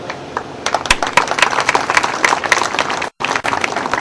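An audience at a presentation applauds, a crowd of hands clapping in loose irregular bursts at moderate loudness, with a brief sharp dropout near the end.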